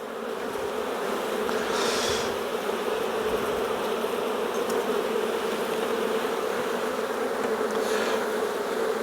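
Honey bees drone in a steady, dense buzz around an open hive during an inspection of plastic frames, the hum continuous and close throughout with no talking.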